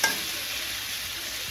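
Potatoes frying in a pan in a crab curry, a short, steady soft sizzle with a faint stir at the start.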